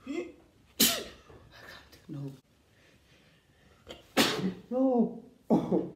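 Several loud sneezes after sniffing powdered snuff, two sharp bursts with gasping breaths and a person talking between them, close and dry-sounding.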